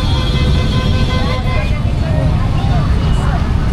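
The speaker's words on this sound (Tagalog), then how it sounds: "Grabe ka traffic oh." Heavy road traffic in the Philippines, a dense, steady roar of cars, buses and engines close by, with a faint horn toot buried in the continuous rumble.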